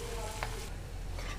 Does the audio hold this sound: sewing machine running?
no